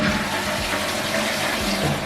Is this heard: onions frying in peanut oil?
no